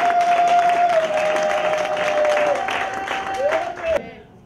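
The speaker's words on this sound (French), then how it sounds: "Est-ce que nous pouvons honorer notre Dieu par des acclamations?" A church congregation claps and acclaims God, a steady wash of applause and crowd voices with a sustained high tone running through it, ending abruptly into quiet.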